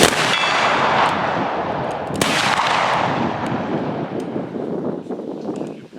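A volley of rifle gunfire at a Victorian Rifleman shoot in Bowling Green, Kentucky, opens with a loud, sharp crack. A second crack follows shortly after, and both shots trail off in a long, rumbling echo over wind noise.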